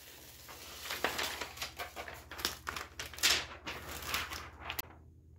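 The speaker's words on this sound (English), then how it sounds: "You want to carefully peel away the paper backing." Paper backing peels away from vinyl transfer tape in close, crackling bursts of tearing and rustling that rise and fall for several seconds, then stop.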